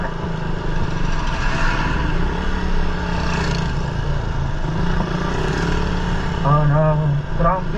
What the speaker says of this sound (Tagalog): Traffic, mga idol.